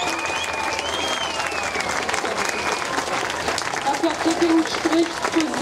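Dense applause from an audience at a Berlin basic income gathering, continuous and loud throughout, with a few voices and whistles rising over the clapping.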